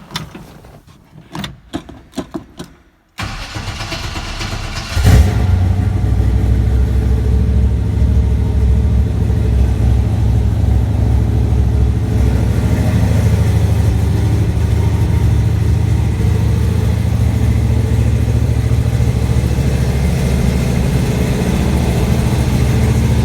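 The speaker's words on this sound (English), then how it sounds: "Actually, I'll try to start it up." A cold, carbureted big-block engine in a 1968 Chevrolet Camaro hardtop coupe cranks briefly, then fires and settles into a loud, steady, rumbling idle that continues close by for the rest of the clip.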